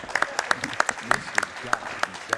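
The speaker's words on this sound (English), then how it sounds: "You can clap for that." Scattered claps from a speedrun event audience at Summer Games Done Quick 2018, during a Star Wars Jedi Knight: Dark Forces II run, with a voice talking over the sparse, uneven clapping.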